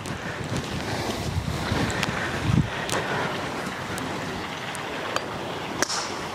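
Steady wind roars across an open golf course at Club de golf Milby, a broad continuous rush buffeting the microphone, with a few faint sharp clicks scattered through it.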